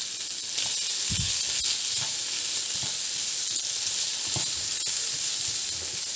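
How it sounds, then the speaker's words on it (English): Lamb kidney and liver sautéing in a pan give a continuous close hiss and sizzle, with scattered faint pops and scrapes along the way and no voices. "we are now going to saute as well our kidney and liver lamb."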